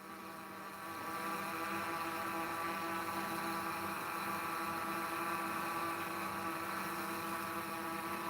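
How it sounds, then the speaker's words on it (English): Honeybees buzz at a hive among flowers in Kyiv, Ukraine, a dense, continuous drone that swells a moment in and then holds steady and close. "Natural sounds of honeybee."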